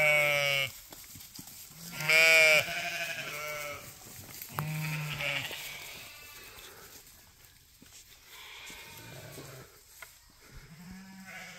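Sheep and goats bleat in scattered calls, some loud and close, others softer, across a wooded pasture where the flock is rotated through thick trees, with long quiet gaps between the cries.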